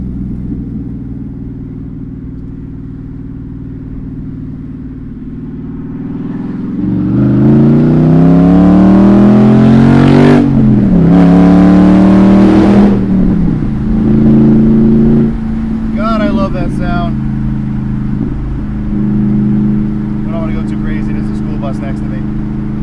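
A Dodge Challenger Scat Pack V8 with its exhaust open idles with a deep rumble, then revs up hard into a loud, rising roar before settling back to a steady burble, with a few brief voice sounds near the end.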